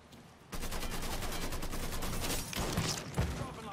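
Rapid bursts of automatic gunfire from Mafia III, starting abruptly after a brief quiet moment and continuing loud and dense, with a few heavier shots near the end.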